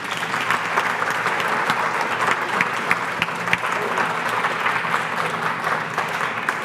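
Sustained audience applause at a high school prize presentation event, a thick, even patter of many hands clapping at close range, steady throughout with a few sharper claps standing out.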